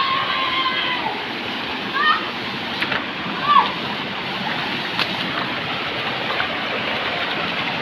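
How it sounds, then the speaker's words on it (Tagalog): A waterfall at a nature spot makes a steady broadband rush of falling water with a few splashes. People talk over it and their voices sit on top of the constant roar. "Ayan, napakaganda po ng talon."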